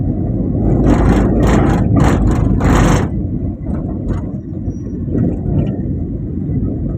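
A car drives at night along the left side of Hatirjheel road in Dhaka at moderate speed, its engine droning loud and steady throughout, with a brief rise in revving and road noise over the first three seconds.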